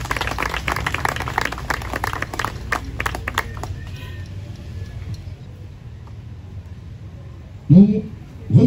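A crowd in a Masonic lodge applauds an orator at a St John the Baptist celebration, a dense burst of clapping that thins out and fades, followed by someone speaking.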